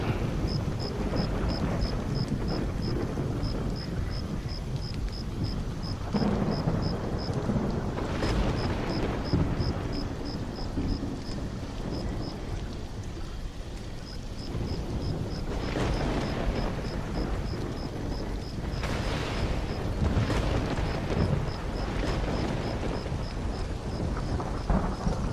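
A thunderstorm in the survival game Stranded: Alien Dawn: steady heavy rain with repeated deep rolling rumbles of thunder, and a faint rapid ticking tone pulsing above the downpour.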